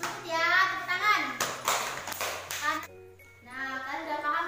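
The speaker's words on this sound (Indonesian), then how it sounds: "tepuk tangan" Children in a sixth-grade Indonesian language class clap for a classmate. The brief patter of hands is mixed with young voices chattering and calling out close by.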